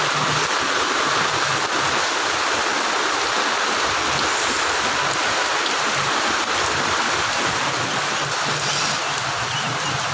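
Heavy rain pours off a tarp in a steady, loud, hissing rush, continuous and unbroken for about ten seconds with no voices over it.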